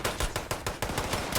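Rapid automatic gunfire from a weapon in Fallout 76 rattles off in a fast, even burst of about nine loud, close shots with no talking.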